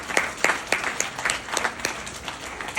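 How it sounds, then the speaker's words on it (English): Applause from an audience at a political event for a Democratic judicial nominee to the Allegheny County Court of Common Pleas, a steady patter of many hands clapping at moderate distance, fairly quiet and continuous with no talk over it. "let me hear a round of applause"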